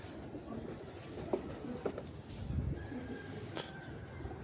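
Home-bred pigeons with baby birds cooing nearby: a few soft, low coos rise over a quiet background murmur.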